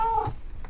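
A cat gives a single short meow, close and clear, fading quickly into quiet room tone.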